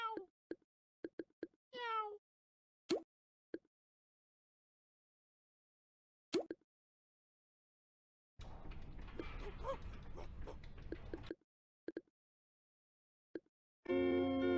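A person imitates a cat meowing in a Toontown: Corporate Clash game session, giving several short, separate meows with quiet gaps, followed by a longer burst of noisy sound.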